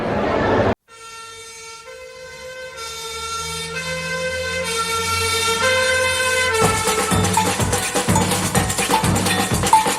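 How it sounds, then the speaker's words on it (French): A fire station siren sounds at night to call firefighters: after a brief cutoff, a loud, steady wailing tone swells and holds, and a busy rhythmic clanging joins in near the end. "En pleine nuit, une sirène appelle au feu tous les pompiers."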